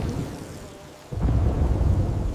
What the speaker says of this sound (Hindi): बिजली जोर से चमकी और आसमान जैसे गरज उठा। तेज बारिश शुरू हो गई।